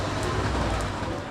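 Heavy pouring rain falling on the ground outdoors at a Belgian theme park, a dense steady hiss and patter, close and continuous for a brief moment.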